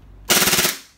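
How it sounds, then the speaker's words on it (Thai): A gas-powered Glock 23 replica pistol fires a rapid full-auto burst of about eight to ten shots in under half a second, loud and close, with a short fading tail after the string ends. "ส่วนออโต้นะครับคลิปนี้ได้ทั้งปืนได้ทั้งโรนี้เนาะออโต้ปรับไปตัวนี้นะครับ"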